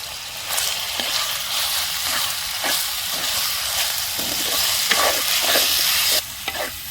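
Spiced local mutton with turmeric, chilli powder and salt is stirred in a clay pot. Close scraping strokes repeat over a loud steady sizzle.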